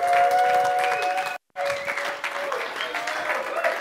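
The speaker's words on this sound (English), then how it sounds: "everybody stand up for a minute and give him a standing ovation" A conference audience gives a standing ovation, with dense, loud, steady applause from a crowd and a voice speaking over it, broken by one very short gap.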